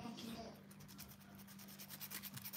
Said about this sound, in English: I'm filing the second hand